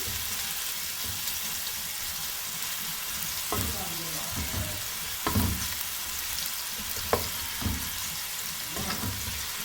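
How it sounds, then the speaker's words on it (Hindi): Chopped onions frying in a karahi, a steady soft sizzle with a few sharper stir clatters near the middle, close and moderately loud with no one talking. "ऑनियन को मैं लाइट ब्राउन करूंगी।"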